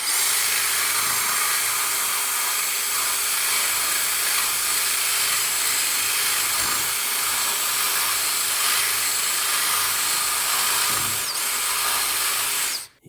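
Drill bit spinning against rust inside the wheel hub of a 2009 Subaru Forester, a continuous bright, gritty whirring that holds steady at close range for the whole stretch before cutting off at the end.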